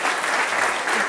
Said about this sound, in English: Maybe just give him an applause.